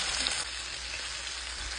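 Food sizzles and fries in a hot pan with a steady crackling hiss, heard close and fairly quiet, with faint scrapes of stirring and no talking.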